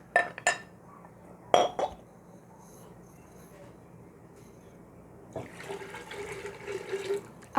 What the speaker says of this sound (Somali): waxaan kaloo ku dareynaa afar bakeeri oo biyo